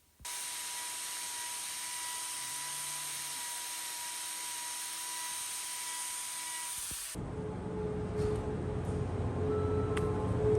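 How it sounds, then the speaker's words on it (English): An electric grinder takes down overgrown hoof wall horn, giving a steady, close, high-pitched whine for about seven seconds that then drops into a lower, rougher rumble as it bites into the hoof, with no voices. "I'm going to take that wall horn down with my grinder."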